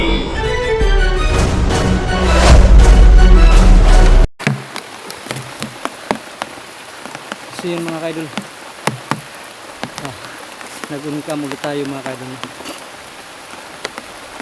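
Light rain keeps falling outdoors after a heavy downpour, a soft, steady patter with scattered drips and a faint insect-like buzz. Someone talks over it, and a loud burst of music opens the stretch.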